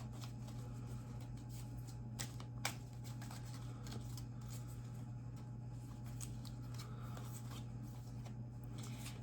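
Soft, steady rustling and riffling of a deck of oracle cards being shuffled, with a few sharper flicks, over a constant low hum.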